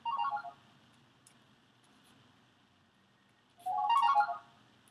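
A cell phone ringtone chirps in two short, bright melodic bursts separated by a few seconds of near silence, moderately loud and with no talk over it.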